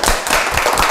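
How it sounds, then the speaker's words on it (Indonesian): A few people on a podcast set clap for a mother, a short loud burst of close hand claps lasting under a second. "Tepuk tangan buat emaknya."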